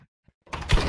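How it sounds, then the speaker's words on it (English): A door opens after a brief near-silence, giving a sudden loud rush of mechanical noise that lasts to the end, with no talking. "Open the door."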